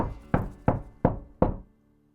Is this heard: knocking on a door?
yes